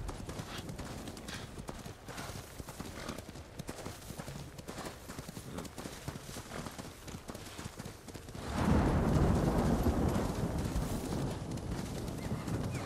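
Rapid, steady hoofbeats of a galloping horse in the video game Ghost of Tsushima, close and continuous, growing louder and fuller partway through with a rushing wind-like roar.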